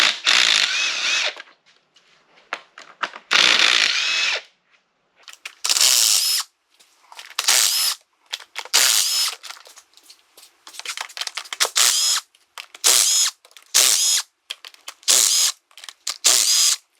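A power tool works 8mm bolts out of an engine during a budget engine swap, running in repeated short bursts of whirring and ratcheting with brief quiet gaps between them.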